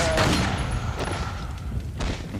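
Gunfire in Resident Evil 4 comes as a few sharp booming shots with short echoing tails, spaced over a couple of seconds, close and punchy against a low game background.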